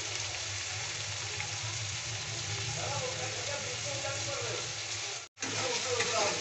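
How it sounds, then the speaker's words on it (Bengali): Chopped onion with a little salt fries in a pan for pasta, giving a steady, close sizzle throughout with a very brief cut near the end, and no talking over it. "হালকা গোল্ডেন হওয়া পর্যন্ত ফ্রাই করতে হবে পেঁয়াজটাকে।"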